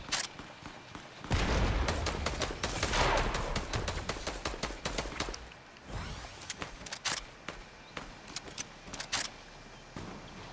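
Gunfire in a late-game video game arena match, with rapid bursts of shots and sharp single cracks across the span, loud at times and thinning out toward the end.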